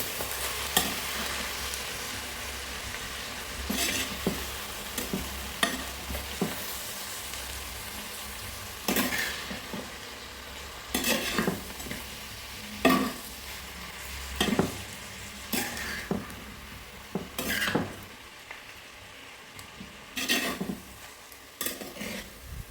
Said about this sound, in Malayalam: ഇതൊന്ന് നന്നായി ഇളക്കി കൊടുക്കാം.